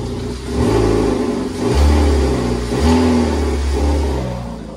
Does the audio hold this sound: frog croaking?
no